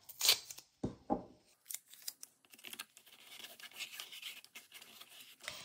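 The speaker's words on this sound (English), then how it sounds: "Maybe I'll add some tape to this wire. Just take a piece of masking tape." A strip of masking tape is pulled and torn off a roll while a junk journal cover is finished, giving short close crackling rips and scratchy bursts with quiet gaps between.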